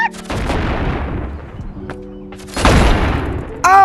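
Shotgun blasts in the VR video game Animal Company, several loud booming shots with rumbling tails, spaced unevenly, mixed with game sounds and a voice speaking.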